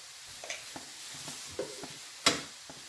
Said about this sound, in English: So let that saute for literally 1 minute